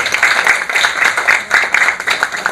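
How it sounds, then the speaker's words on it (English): Dense, steady applause from an audience at a Women's Day celebration, close and loud, with rippling bursts of many hands clapping at once and no voices over it. "Can you clap for her, please?"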